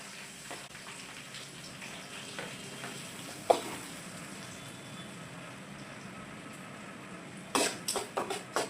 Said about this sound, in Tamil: வெங்காயம் பச்சை மிளகா இது ரெண்டு கலந்துக்கலாம்